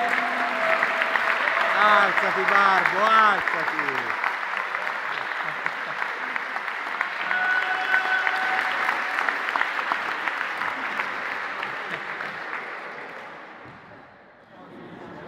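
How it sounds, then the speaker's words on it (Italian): An audience applauding a volleyball club player named Bardini at a youth and first-team presentation, loud sustained clapping with crowd noise and voices calling out over it, gradually fading away near the end. "Un applauso a Bardini."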